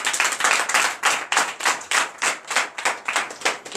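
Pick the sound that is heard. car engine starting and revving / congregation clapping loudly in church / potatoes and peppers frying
congregation clapping loudly in church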